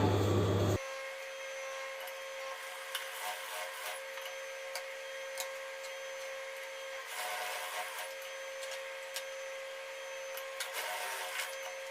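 A sewing machine stitches Ankara fabric pieces together, a soft, fairly faint mechanical whir with light ticking that runs steadily and unevenly after a brief louder noise at the very start.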